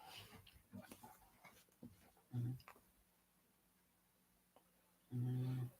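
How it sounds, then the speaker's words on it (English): A sleeping puppy snores, giving two short, low, rumbling snores several seconds apart against a quiet room with faint shuffling noises. "I got a puppy. She's snoring."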